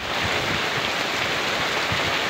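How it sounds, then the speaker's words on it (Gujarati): Heavy unseasonal rain lashes down during a storm in Fervay village, Dediapada, Gujarat. A dense, continuous roar of downpour fills the scene evenly, with no voices. "ડેડિયાપાડાના ફેરવાય ગામે બહુ ભારે વરસાદ વાવાઝોડા સાથે"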